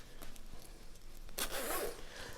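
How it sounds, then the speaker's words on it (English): A brass zipper on a Rothco vintage M65 field jacket is run along its track, giving a close, short rasping zip with a louder final pull, heard alone. "You have this brass zipper."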